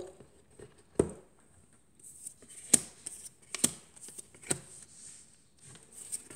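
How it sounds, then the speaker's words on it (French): Oracle cards are spread out across a tabletop in a quiet room, making a few distinct soft slaps and slides spaced a second or so apart, each brief and close. "j'étale les cartes que j'ai tirées pour vous"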